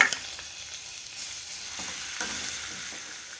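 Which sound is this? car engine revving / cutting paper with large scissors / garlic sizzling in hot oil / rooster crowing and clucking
garlic sizzling in hot oil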